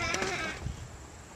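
A brown goat on a farm gives a short bleat, faint and brief, with people talking nearby.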